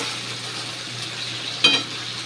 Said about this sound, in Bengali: হালকা একটু ভেজে নিই, ভাজা ভাজা করে নিই।